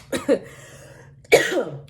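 A person sick with Covid-19 gives a pair of quick dry coughs, a pause, then another harsh cough, close to the microphone.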